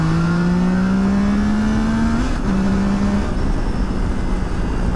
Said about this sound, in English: We're going to hang back a little bit and do some full throttle.